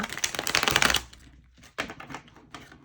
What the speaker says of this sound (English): You guys want to see my shitty shuffling skills.